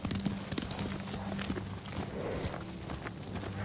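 Horses' hooves clip-clopping at a walk in the video game Ghost of Tsushima, a steady rhythmic trot of several horses under a low ambient rumble, close and moderately loud with no talking.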